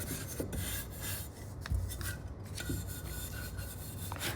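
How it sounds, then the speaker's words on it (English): Sandpaper lightly rubbing over a painted, gold-leafed edge of a thrifted home decor piece, making a soft continuous rasping scrape with slight rhythmic strokes, close and quiet. "I'm just gonna lightly sand this to bring back some of that original color on the edge"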